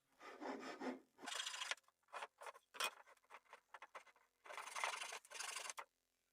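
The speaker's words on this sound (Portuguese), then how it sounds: "vou passar um formão de mão, lixar bem e aí terminamos" Hand chisel work and sanding on a wooden picture frame, heard as bursts of scraping and rasping strokes separated by short quiet gaps, close and fairly soft, with no talk.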